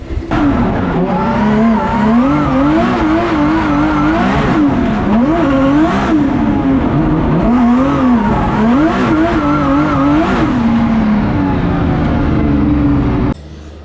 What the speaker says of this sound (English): Still got a miss in the burnout box